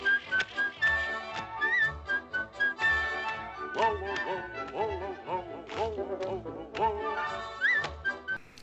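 Donald Duck and Goofy whistle "Whistle While You Work" in bright, clear notes over bouncy instrumental accompaniment with a steady plucked beat.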